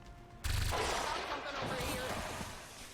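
Gunfire at an enemy gunner in XCOM 2 breaks out as a sudden loud burst, followed by a sustained rumbling crackle of shots and mechanical clatter that fades slightly over the following seconds.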